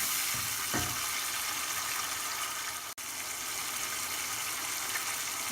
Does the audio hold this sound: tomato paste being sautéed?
yes